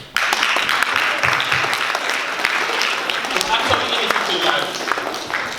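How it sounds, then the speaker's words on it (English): Students at a school careers-week assembly applaud a guest speaker: loud, sustained clapping from a large crowd that starts abruptly and carries on evenly to the end, with some crowd noise mixed in. "let's clap for my man that said how"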